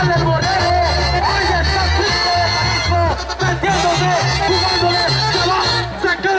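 Spectators at a charreada rodeo in Tecolapa, Colima, cheer, whoop and shout in a loud, dense roar that holds steady throughout, with brief swells and a short dip partway.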